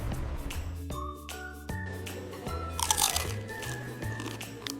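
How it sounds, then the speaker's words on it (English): Someone bites into a burger and chews it, giving close, crisp crunches in short bursts, with soft tonal chimes ringing underneath. "Take a bite of the burger."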